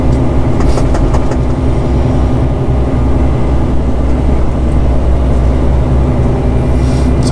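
Steady, loud engine and road rumble from a car driving along a street, a constant droning hum with no break throughout.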